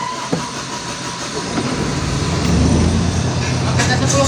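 A Kobelco SK130-8 excavator diesel engine is cranked over by its starter, a low mechanical rumble that builds and grows louder toward the end, with a brief sharp knock near the start.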